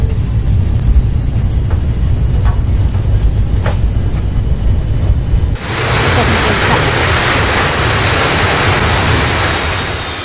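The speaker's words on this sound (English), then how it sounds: "Reverse thrust deploy." Jet airliner landing, on the runway with reverse thrust deployed: a loud, close, continuous roar that abruptly swells into a broader rushing blast midway, then holds and slowly eases.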